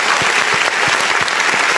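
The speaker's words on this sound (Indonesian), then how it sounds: "boleh beri tepuk tangan untuk kita semua pada sore hari ini" An audience at a launch event in Papua applauds with steady, dense clapping filling the short moment, close and continuous without pause.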